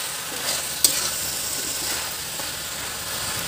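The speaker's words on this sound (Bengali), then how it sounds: "তো চলো সবজিটা কষা, কারণ আমি গিয়ে কাপড়টা ধুই।" Jackfruit vegetable curry being sautéed in a pan, a steady close sizzle with soft stirring scrapes and one brief clink of the utensil against the pan.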